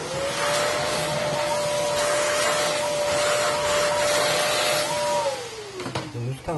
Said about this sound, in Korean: 청소기 한번 싹 빨아주고요.